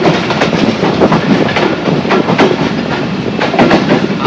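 Joydebpur commuter train rolling into Joydebpur railway station, a junction, with a steady loud rumble and repeated clickety-clack of wheels over rail joints, close by and with no talk.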